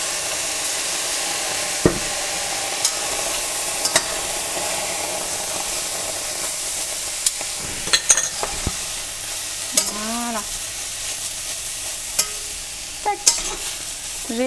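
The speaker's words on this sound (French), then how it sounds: "Après, on remue bien et on arrête la cuisson pour éviter que ça brûle." Pieces of seitan fry with soy sauce in a pan under a loud, even sizzle, with occasional scraping stirs and sharp spatula taps throughout.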